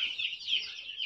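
Indian roosters cluck close by at a farm feeding time, a brief, steady high-pitched chatter with small rises and falls.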